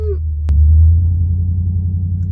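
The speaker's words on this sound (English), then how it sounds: "somebody's like idling their fucking big ass truck behind me and it's so loud" Big truck idling close behind a parked car, then backing out, a loud, steady low engine rumble with one sharp knock near the start, heard alone without talk.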